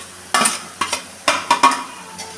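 Grated beetroot frying in a pan for beetroot rice, stirred with a utensil in a few scraping strokes over a soft sizzle, close by with no talking.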